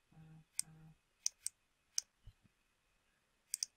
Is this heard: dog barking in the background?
no